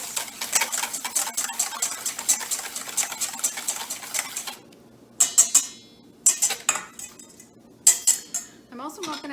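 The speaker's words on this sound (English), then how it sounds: "now I need to whisk 2 eggs" Two eggs whisked briskly in a bowl, a fast steady clatter of metal against the bowl, then a pause and several short separate bursts of whisking.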